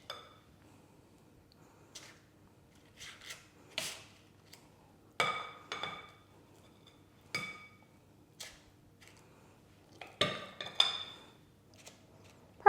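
A spoon taps and scrapes while cake mixture for mini simnel cakes goes into twelve paper cupcake cases, giving about a dozen scattered light clinks and soft knocks with quiet pauses between them and no talking.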